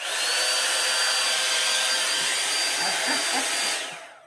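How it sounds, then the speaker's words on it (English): A PureAirCurl hair dryer blows steadily as it dries hair, a loud, close, even whoosh with a faint high whine that runs unbroken for several seconds before trailing off at the end. "we are going to completely dry our hair with this"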